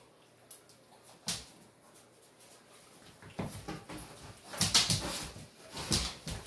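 A dog gives soft whimpers and brief yips amid quiet rustling, faint at first and then louder and busier toward the end.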